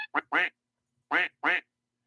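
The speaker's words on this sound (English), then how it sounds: "there's no need for a duck there" Four loud, nasal duck quacks from a sound effect, heard alone in two close pairs separated by a short silence.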